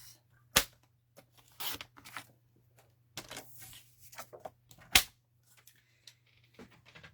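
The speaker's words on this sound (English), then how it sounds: "So I'm just going to cut a little mat for 5 5/4." A cardstock mat is cut for a stamped paper craft card, heard as sparse sharp snips and rustles separated by quiet gaps over a low steady hum, with no speech.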